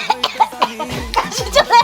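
A person coughs several times in quick short bursts, close and loud, mixed with breathy throaty sounds that blur toward laughter.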